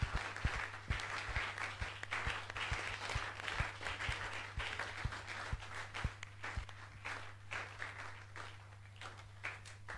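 A church congregation in Tangier claps rhythmically in steady, fairly quiet beats alongside a low constant hum, with faint voices under the claps.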